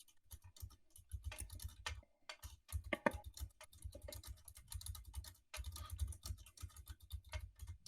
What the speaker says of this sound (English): Angel, I hear you typing.